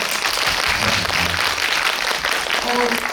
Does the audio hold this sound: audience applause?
yes